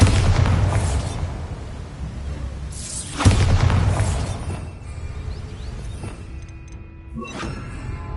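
The Bombarda spell in Hogwarts Legacy on PS5 bursts in two loud booming explosions a few seconds apart, each followed by a long rumbling decay of debris that fades toward quiet.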